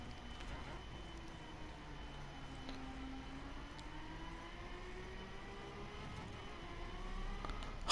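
A Ferrari sports car's engine in the driving game The Crew, a smooth steady engine tone that rises and falls gently as the car cruises, moderately quiet and continuous, with no voices.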